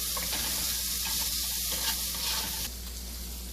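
Boiled potatoes frying in a pan for poha, a steady close sizzle with faint stirring scrapes, dropping slightly in level near the end.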